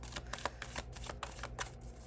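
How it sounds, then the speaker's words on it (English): A tarot card deck is shuffled close up in a quick, rhythmic series of crisp riffling bursts that repeats steadily for about two seconds, with no talking. "shuffling our deck"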